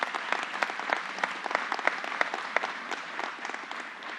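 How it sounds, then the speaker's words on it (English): A crowd at a governor's announcement on the start of offshore wind construction in New York breaks into steady applause of many hands, sustained for several seconds at a moderate distance and tapering slightly toward the end. "Let's give them a round of applause."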